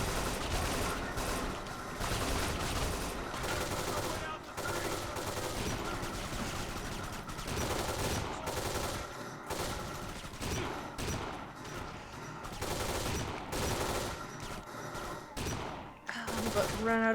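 Shotgun blasts and other gunfire from the video game Kane & Lynch 2: Dog Days, loud and dense for the whole stretch, with a voice talking over the shooting.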